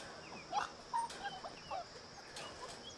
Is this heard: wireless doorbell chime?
no